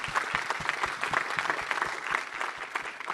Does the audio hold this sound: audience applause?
yes